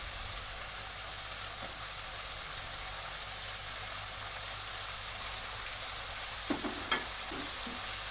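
Low steady sizzling of vegetables, including cauliflower, stir-frying in a wok, with a few sharp clattering stirs near the end.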